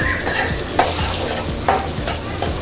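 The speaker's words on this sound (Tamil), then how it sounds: "நல்லா கிளறி விட்டுருவோம்" Egg noodles are stirred and tossed in a hot sizzling pan, with rhythmic scraping strokes about every half second over a continuous frying hiss, close and loud.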